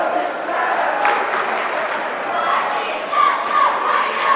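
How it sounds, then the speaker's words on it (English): A student section cheers and yells at a high school boys' basketball game, a loud steady crowd roar with rising shouts through the gym. "There's the cheer,"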